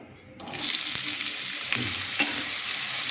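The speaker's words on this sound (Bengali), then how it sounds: "কড়াই আমি সর্ষের তেল দিয়ে দিয়েছি। এবার এখানে কুচোনো পেঁয়াজটাকে দিয়ে দেবো।" Chopped onions drop into hot mustard oil in a wok, setting off a sudden loud, steady sizzle after a short quiet start, with a few stirring scrapes and clinks along the way.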